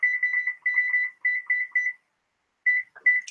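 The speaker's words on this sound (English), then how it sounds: "And I will set my timer here." A kitchen timer beeps in quick repeated bursts for about two seconds, pauses, then gives a few more loud, close beeps with a faint button click.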